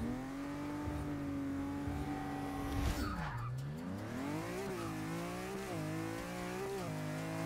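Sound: car engine accelerating through gears in Forza 6 video game

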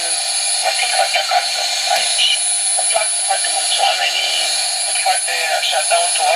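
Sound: shortwave radio through LM386 amp, noise reduction switched off

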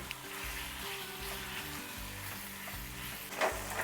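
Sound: chicken curry cooking in a pan

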